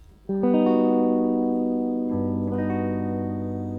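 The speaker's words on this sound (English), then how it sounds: "the chord we use this scale on is basically a major 7 sharp 5" A sustained, bright electronic major seventh sharp five chord rings out after a quick rolled attack, shifting voicing partway through and holding with a slow fade.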